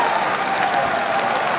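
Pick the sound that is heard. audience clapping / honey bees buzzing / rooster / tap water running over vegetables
audience clapping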